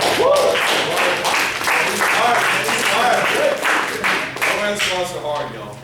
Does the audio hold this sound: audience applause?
yes